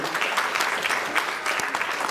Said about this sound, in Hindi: हमारे वियतनाम से आए सभी मित्रों के लिए एक बार तालियां बजा दीजिए